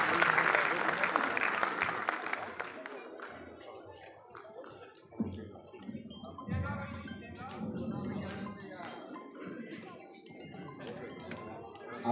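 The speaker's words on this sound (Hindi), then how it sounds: "जोरदार तालियों से स्वागत कीजिए सुदीप भोला जी का।" A live audience at a poetry gathering bursts into loud applause to welcome a poet on stage, the clapping strongest at first then thinning into scattered claps and crowd murmur with voices.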